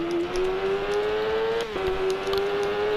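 A Kawasaki ZX10r sport bike engine revs hard and climbs steadily in pitch at full speed in the Sierra Nevada, with a brief dip around a gear shift before pulling strongly again, loud and continuous.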